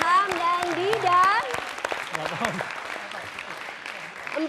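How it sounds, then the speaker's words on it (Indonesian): Studio audience applause at an Indonesian TV quiz show, a steady clatter of clapping that runs the whole time under music tones and a host's voice. "kita beri tepuk tangan dulu untuk Ilham dan Dida"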